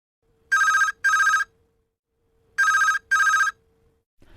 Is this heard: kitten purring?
no